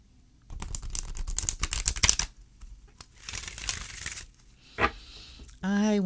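A Kuan Yin oracle card deck is shuffled in dense, crisp riffling bursts up close, then more softly, with a brief snap as it is cut. A voice speaks briefly at the end.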